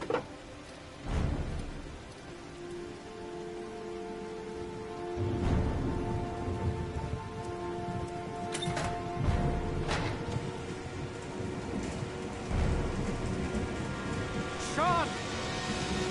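Rain falling in the video game Heavy Rain, a soft steady patter under game music and occasional thumps and tones.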